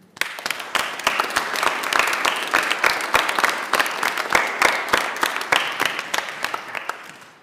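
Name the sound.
audience applauding at a commencement ceremony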